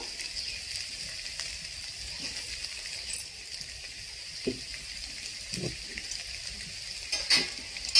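Potato and cauliflower pieces fry in oil in a pan, giving a steady, soft sizzle with occasional scraping stir clicks, close and continuous without speech.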